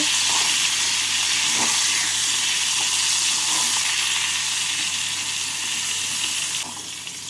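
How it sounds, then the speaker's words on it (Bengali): Steady, dense hissing of pointed gourd frying in oil, constant and fairly loud, easing slightly near the end. "পটলগুলোকে নাড়াচাড়া করে হালকা লাল করে ভেজে নেব"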